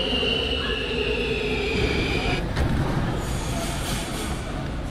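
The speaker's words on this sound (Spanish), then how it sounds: "He aquí con ustedes el subte polaco." A Warsaw metro train runs through an underground station with a steady, loud roar of wheels on rails and a long high-pitched squeal of braking wheels, then a fading rumble as it slows.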